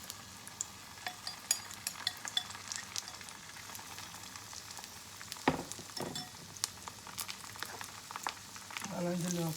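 Leftover beaten egg cooking omelette-style in a pan, a soft, steady sizzle with small crackles and pops, fairly quiet and close, with a brief knock partway through.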